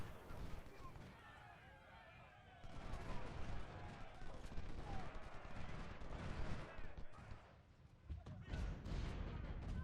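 Artillery fire in the Civil War strategy game Ultimate General at the Battle of Shiloh, with a continuous rumble of cannon and gunfire bursts across the whole stretch, louder after the first few seconds.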